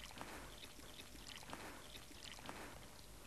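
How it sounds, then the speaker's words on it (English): Plaster of Paris pours into a mould of a face, a faint, wet, sloshing trickle with a few soft splashes recurring through a quiet stretch. "into that, I'm going to pour some plaster of Paris"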